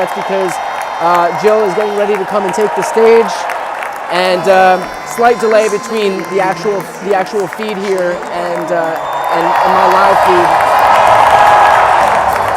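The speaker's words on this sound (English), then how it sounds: "you can hear the applause behind me" Applause from a large convention crowd at the United Center in Chicago during the Democratic National Convention, rising behind a reporter speaking, then swelling to a steady loud roar near the end.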